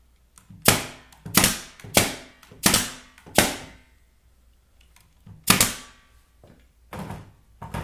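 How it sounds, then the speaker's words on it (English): Nail gun firing 1 1/4 inch nails into a wooden beehive base, six sharp loud bangs in an uneven rhythm, each with a short decaying ring, then faint thuds, close up with no talking. "And at the mark line, and then shoot 1 1/4 nails."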